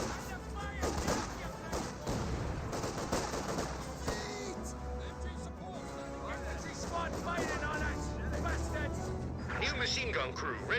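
Vickers and MG34 machine guns fire steadily in Company of Heroes 2, bursts of gunfire layered with game music and effects under continuous talking.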